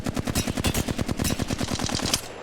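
An automatic weapon in Apex Legends fires one fast unbroken burst of about two and a half seconds. The shots crack out loud and evenly spaced, roughly ten a second.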